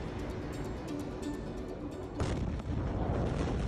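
Beirut port explosion, a blast that began with a fire in a fireworks depot at the harbour: continuous heavy low rumble, then an abrupt louder burst about two seconds in that keeps roaring as a dense, sustained blast wash.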